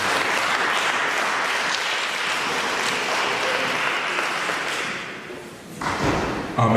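Church congregation clapping in acclamation during a service, a dense sustained round of applause with a few thumps, dipping briefly near the end before rising again.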